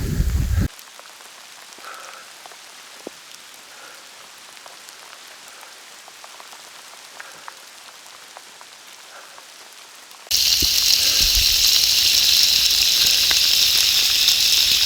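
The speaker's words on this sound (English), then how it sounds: "Here comes the rain again." Rain patters on the Cooloola Great Walk hiking trail, a light scattered pattering for a while before a sudden loud, dense hiss of heavy downpour takes over.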